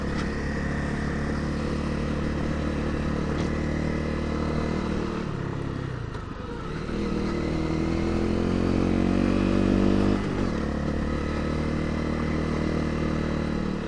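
A 250L dual sport motorcycle engine revving hard while riding, loud and close, with rising and falling pitch through gear changes, a dip around the middle, then climbing revs again.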